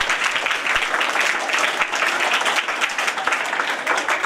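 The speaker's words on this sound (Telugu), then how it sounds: "ఒకసారి క్లాప్స్ కొట్టుకోండి" Schoolchildren at a government school celebration held by a Rotary Club clap together in a continuous, fairly loud burst of applause that lasts for several seconds.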